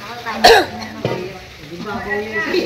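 A single sharp cough sounds close by, followed by a throat-clearing noise and some soft voices murmuring.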